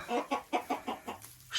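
Hens in a backyard coop clucking in a quick run of short, soft, evenly spaced clucks, close and moderately quiet, with no talking.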